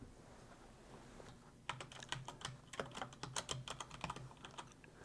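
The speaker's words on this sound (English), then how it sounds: "So I'm going to click in there and type Edward Schultz." Typing on a computer keyboard, a quiet close burst of rapid uneven key clicks beginning after a short pause and continuing in quick clustered strokes to the end.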